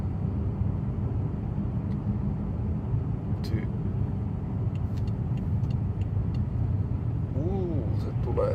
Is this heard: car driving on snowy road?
yes